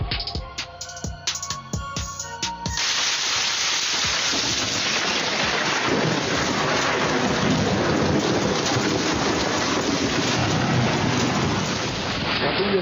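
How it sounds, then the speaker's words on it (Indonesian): Heavy thunderstorm rain pours steadily over the Christ the Redeemer statue in Rio de Janeiro, with sharp crackling thunder bursts at the start before a dense, loud, continuous downpour takes over. "Yesus raksasa yang sangat terkenal di Rio de Janeiro, Brazil, terus sambar petir pada Jumat 10 Februari 2023."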